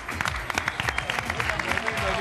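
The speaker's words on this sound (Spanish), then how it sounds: "¡Fuerte aplauso para Carla!" Studio audience applause on an Argentine TV variety show, a dense steady burst of clapping with cheering voices layered over it, lasting throughout.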